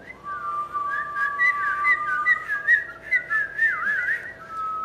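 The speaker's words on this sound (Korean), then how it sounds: "휘파람을 불 수 있나요?" A person whistles a short, wavering melody alone, clear and close, with fluttering pitch slides and no talking.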